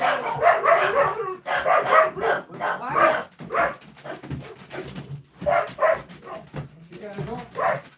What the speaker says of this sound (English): Uh-oh, here comes my doggies.